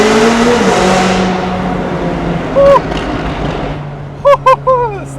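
A supercar engine revs loud and close, a sustained roar that eases back, then a few short beeps ring out near the end.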